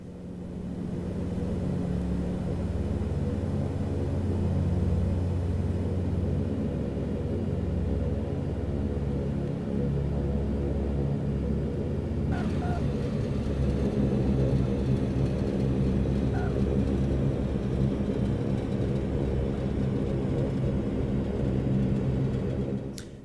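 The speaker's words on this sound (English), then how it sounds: "The aircraft stops very nicely, just with some reverse thrust." A Saab 340A turboprop in the X-Plane flight simulator lands and slows on reverse thrust at Manchester, a loud sustained engine rumble and roar that swells midway and runs throughout with no voices.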